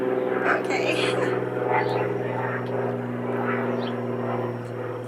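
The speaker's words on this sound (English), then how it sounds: "Sorry about the airplane." A propeller airplane passes overhead, a loud steady droning hum with strong low engine tones, while a person speaks softly over it.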